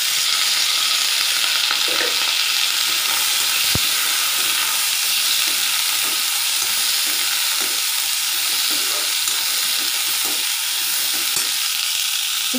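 Small onions sautéing in a pan with thoothuvalai leaves for a chutney, a steady broad hiss of frying running evenly throughout with occasional soft stirring taps.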